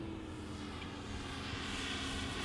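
A Top Flite P-47D Thunderbolt Gold Edition radio-controlled model plane with a 3-bladed propeller cruises at low throttle, giving a steady, continuous engine drone that holds level throughout, fairly faint and heard on its own.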